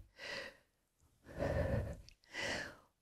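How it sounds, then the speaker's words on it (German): Slow, deliberate breathing in and out during morning gymnastics: three distinct close breaths, each a soft airy rush separated by short pauses. "Und ein- und ausatmen."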